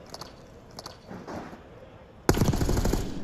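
Gunfire from an esports video game match: a few faint clicky shots early on, then a loud sudden burst of rapid shooting that keeps going to the end.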